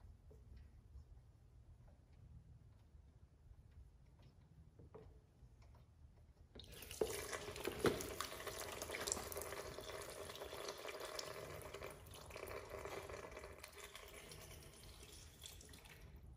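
Coolant draining from the 12 mm drain plug of a John Deere X540 lawn tractor into a funnel, a sudden steady splashing pour that starts midway after a quiet stretch and keeps running, close and without talk.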